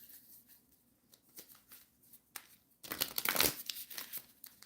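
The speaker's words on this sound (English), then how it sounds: "I'm going to shuffle again" Tarot deck being shuffled by hand, a series of soft papery riffles and crinkles, quiet at first and swelling into a louder, denser burst of card noise near the end.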